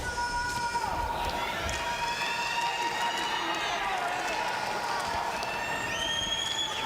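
An arena crowd at a middleweight boxing fight murmurs and calls out, with scattered whistles and shouts over the steady roar, and a commentator talks throughout.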